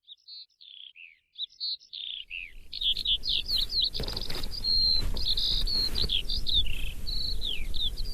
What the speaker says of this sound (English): Can you hear the most beautiful sound of a skylark?